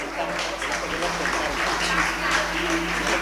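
Students at a school and junior college toppers' felicitation ceremony applaud steadily, a dense, even wash of clapping that continues throughout with a faint voice underneath.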